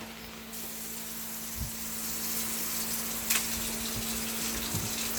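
Water pours steadily into a canner holding carrots, a soft continuous rush with a few small knocks and clunks along the way; no one talks.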